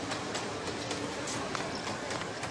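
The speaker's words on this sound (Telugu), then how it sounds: "నాన్న ట్రైన్ వచ్చినట్టుంది." A train approaches with a steady rushing rumble and faint rhythmic clacking of wagons, continuous and moderately near, with no voices over it.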